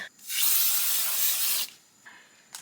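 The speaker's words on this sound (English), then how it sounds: "We're gonna spray a little bit of some dry shampoo, just a little bit." An aerosol can of dry shampoo gives one steady hiss lasting just over a second, then a brief, fainter puff follows. It sounds close.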